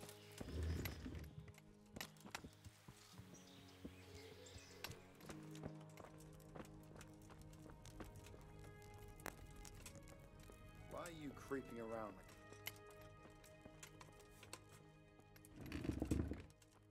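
Horse hooves clop at a quiet, irregular pace in the video game Kingdom Come: Deliverance, with faint game sounds and a voice heard briefly in the background.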